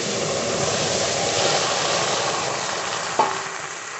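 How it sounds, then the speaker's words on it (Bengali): Dal poured into a hot pan while cooking with jute leaves: a steady, loud frying sizzle continues throughout, broken by a brief clunk near the end. "এবার ডাল ঢেলে দেব"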